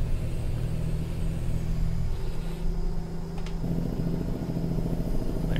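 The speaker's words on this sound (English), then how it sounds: "Hit that Jake brake a little bit, slow us down." Heavy truck in American Truck Simulator, a loud, steady low engine rumble with a Jake brake engaging, its drone deepening and shifting in pitch partway through.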